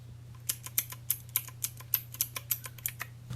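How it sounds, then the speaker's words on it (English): Mechanical keys on a Divoom Ditoo pixel-art Bluetooth speaker click one after another in a steady run of about a dozen sharp, close presses over a low hum, with no talking. "Old style mechanical keys."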